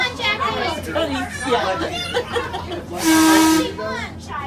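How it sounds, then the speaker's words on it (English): A short, shrill toy whistle blast rings out for about half a second amid children's chatter and voices nearby. "Jackie, you going to blow the whistle, Jackie?"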